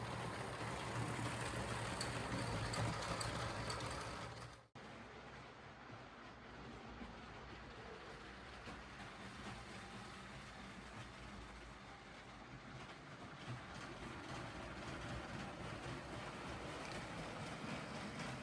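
A LEGO passenger train, newly lengthened, runs smoothly along its track, giving a steady, continuous low rumble and rattle with a brief dip partway through, and no voices.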